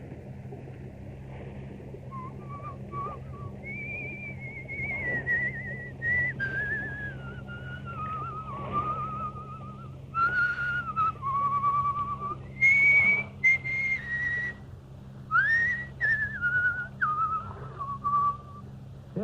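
A man whistles the tune Annie Laurie in a 1938 radio drama, a clear melodic line of sustained notes and short phrases over a faint low hum, growing louder and more broken toward the end.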